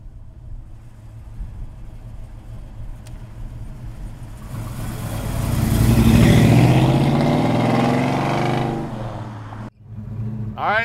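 A 1968 Chevrolet Chevelle SS rumbles at a low idle, then its V8 swells into a loud, rising roar as it accelerates close by, holds for a few seconds, and drops off abruptly before the engine murmurs again.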